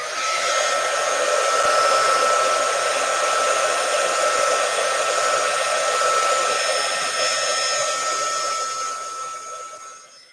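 A heat gun blows a steady, loud hissing roar for about ten seconds while drying paint on a mixed media piece, then fades out at the end.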